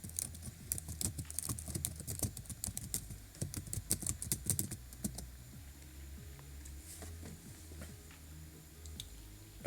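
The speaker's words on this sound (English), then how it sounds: "I can type the link to dlive." Rapid typing on a computer keyboard, with a dense flurry of close, crisp key clicks that slows into sparser, quieter taps.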